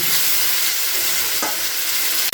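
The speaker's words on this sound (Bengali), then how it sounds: "টমেটো আর কড়াইশুটি দিয়ে দিলাম দিয়ে খুব ভালো করে এটাকে মিশিয়ে নেব মিশিয়ে দিয়ে কিছুক্ষণ এটাকে কষিয়ে নিতে হবে" Tomatoes and green peas being stir-fried into a cauliflower and potato curry in a pan, a loud, close, continuous sizzle with one brief stirring scrape midway and no talk.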